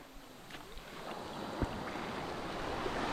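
Low-tide waves and surf wash steadily at a shoreline while a fishing net is hauled in toward the bank after a typhoon, a continuous broadband rush with wind buffeting the microphone and occasional thumps, no one speaking.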